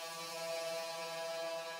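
A sustained synth sample at its original pitch, a steady harmonic buzzing tone with dense overtones, holding level and moderately loud for under two seconds with no voices.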